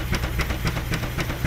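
A steam traction engine at a steam threshers' show chuffs in a fast, even rhythm of hissing exhaust beats, about seven per second, close and steady with no talking.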